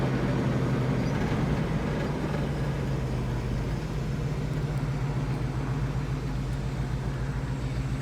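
A 1970 Chevrolet Chevelle engine idles with a steady low rumble held constant throughout, smooth with no vibration, faint background hum and no speech.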